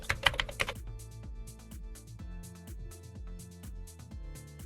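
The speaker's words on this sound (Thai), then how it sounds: "พิมพ์ในช่องค้นหานะครับ SGS" Typing on a computer keyboard into a search box, a quick burst of sharp clicks followed by a steadier run of keystrokes, close and fairly quiet, with no talk.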